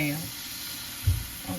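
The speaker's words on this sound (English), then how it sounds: "You're gonna go ahead and you're gonna add in your chicken broth or your water" Chicken broth is poured into a sizzling flour roux in a pan for chicken gravy, a soft, steady frying hiss with a brief low splash partway through.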